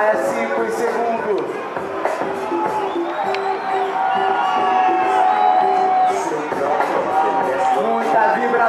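Crowd cheering and shouting steadily at a rowing regatta during a masters coxed eight race, with voices sustained throughout and talk mixed in.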